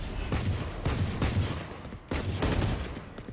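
Valorant gunfire during a match on the Sunset map, sharp bursts of shots in quick clusters, fairly faint with short gaps between volleys and no talk over them.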